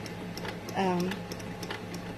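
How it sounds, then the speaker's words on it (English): A sewing machine runs a decorative scallop edge stitch, quiet rapid ticking mechanical patter throughout, with a short voice passing over the middle. "it's just sewing our decorative edge"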